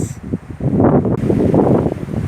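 Loud, buffeting wind roars across the microphone in gusts, filling the whole clip with low rumbling noise, in Balıkesir, Turkey.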